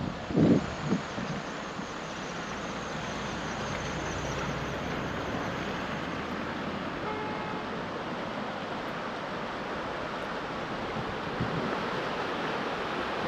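Floodwater from a swollen river rushing beneath a bridge during heavy rain, a constant broad roar, with a brief thump of handling noise at the start.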